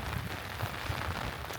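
Heavy rain pours down outdoors at a Texas state park with ancient Caddo mound sites, a dense, constant hiss of drops pattering on surfaces close around, loud and unbroken with no voices.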